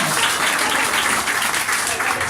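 Applause for Diego at an Assemblies of God missionary service, a dense loud wash of many hands clapping continuously, with voices faintly mixed in.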